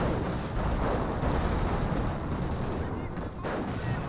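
Continuous distant battlefield gunfire and artillery rumble from a Company of Heroes match, a dense steady roar of shots without distinct pauses, with a commentator's voice faintly present.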